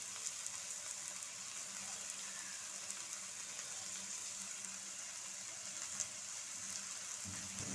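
Shredded cabbage frying in a pan for Singaporean rice, a steady soft sizzle and hiss running the whole time with no talk over it.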